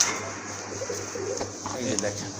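Low cooing from a pair of black Lahori pigeons rumbles close by amid steady background noise, with people talking over it.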